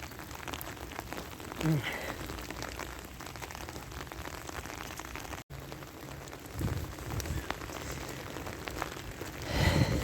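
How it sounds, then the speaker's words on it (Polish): Steady rain patters on a surface, a soft continuous hiss with occasional louder drops, quiet and even throughout. "Ale pada. Cały czas pada."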